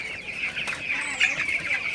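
A flock of 20-day-old broiler chickens cheeps and clucks continuously in a hot shed, many overlapping high peeping calls close by, steady and busy throughout.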